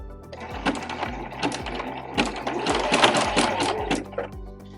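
A sewing machine zigzag-stitches the sides of a fabric bread bag, its needle chattering in quick rhythmic bursts that stop and restart several times, close and steady with no talking.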